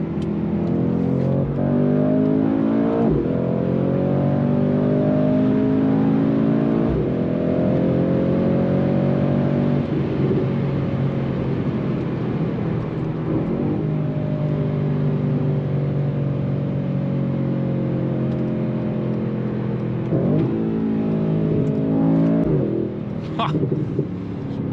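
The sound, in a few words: Mercedes-AMG C63S 2018 engine revving while driving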